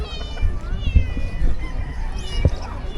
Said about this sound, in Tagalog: Ito pusa.